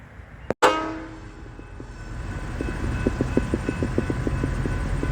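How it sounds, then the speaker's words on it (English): Freight train BL 357 rolls in to offload steel coils, a sharp loud clank near the start followed by a low rumbling approach and a regular series of wheel clicks over rail joints, no talking. "we've got the train coming in to offload some steel coils"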